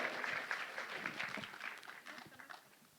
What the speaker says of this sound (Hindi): हो जाए जोरदार तालियां